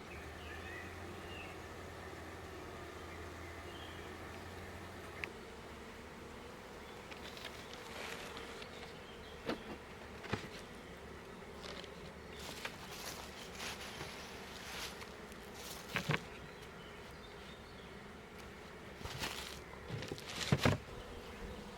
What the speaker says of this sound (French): on peut constater des abeilles qui battent le rappel